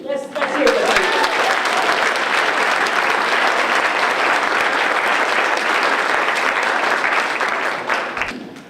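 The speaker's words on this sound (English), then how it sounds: "We're going to applaud him now and later, too." Audience applause for the keynote speaker at a community night event, a dense, loud wave of clapping that holds steady for about eight seconds before tapering off at the end, with a voice briefly heard at the start.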